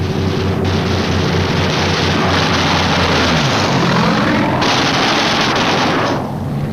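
Loud, dense roar of Japanese fighter planes diving head-on into B-29 bomber formations in 1945 wartime footage, engine drone swelling and shifting pitch as aircraft pass, with rapid gunfire crackle mixed into the continuous din.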